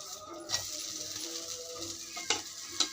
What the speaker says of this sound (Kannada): ಈಗ ಇದ್ರ ಮೇಲೆ ಒಂಚೂರು ಎಣ್ಣೆ ಹಾಕ್ಬಿಟ್ಟು ಈಗ 1-2 ನಿಮಿಷ ಬೇಯಲು ಬಿಟ್ಟು